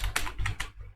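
Code is typed on a computer keyboard in a short run of about four or five quick, close keystrokes that fade out within a second, with no talking.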